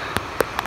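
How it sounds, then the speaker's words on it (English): Heavy rain pounds steadily, a dense hiss with a few sharper drop impacts standing out, heard close by with no voices. "It's raining really hard right now."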